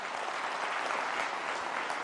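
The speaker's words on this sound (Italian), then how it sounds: "Marilisa e Lucio, un applauso e un saluto." A studio audience at an Italian television variety show applauds, a steady, even wash of clapping that holds at a constant level throughout without any speech.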